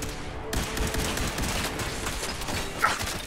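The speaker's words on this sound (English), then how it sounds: "The fuck is shooting me? Laser turret." Laser turret fire in Fallout 4, a dense rapid burst of shots starting abruptly and continuing steadily, fairly loud, with a brief sharper zap near the end.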